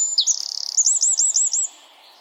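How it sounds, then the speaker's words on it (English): Bright bird song, a robin and wren in dark winter months: a rapid trill followed by a string of five or six repeated clear chirping notes, close and loud, alone. "The robin and the wren will always grace our dark winter months with their song."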